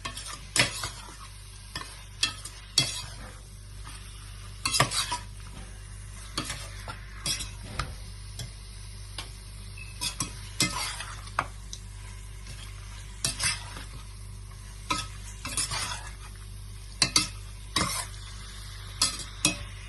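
Prawns sizzle in oil with onion, spices, herbs, cinnamon, cloves, cardamom, green chilli, ginger, garlic, mint and coriander while a spoon scrapes the pan in repeated close, loud strokes over a steady background fry.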